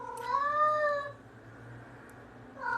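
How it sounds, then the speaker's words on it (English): A domestic cat gives a drawn-out, wavering meow up close, then falls quiet before a second meow begins at the very end, with a steady low hum underneath. "my cat Ian is calling for for my son"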